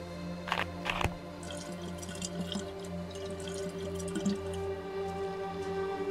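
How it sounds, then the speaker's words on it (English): Water bottle being refilled in DayZ, with soft drips and liquid trickling over a low steady hum, a couple of sharper splashy knocks near the start, no voices. "let's fill this water bottle back up"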